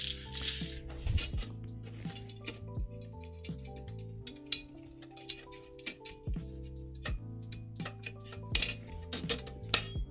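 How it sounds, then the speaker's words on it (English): Metal sockets clink and rattle as a hand rummages through a tool collection while building a SecKit SK-CUBE steel-frame 3D printer kit, giving close, irregular chinks and scraping jangles with brief pauses. "See if I got a socket this size."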